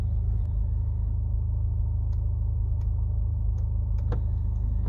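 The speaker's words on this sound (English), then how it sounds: "now the car is running" A Mazda2's engine idles with a steady low rumble close by, joined by a few faint clicks and one light tap near the end, with no talk.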